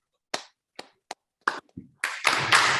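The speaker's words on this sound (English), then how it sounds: "please join me to clap for him" Audience at an association unity meeting breaking into applause: a few scattered single claps first, then building into sustained group clapping toward the end, fairly close.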